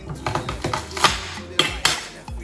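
A knife chops onions on a board for a gizzard stir-fry in green pepper sauce, giving a run of close, crisp taps at an uneven rhythm, with a few louder knocks near the end.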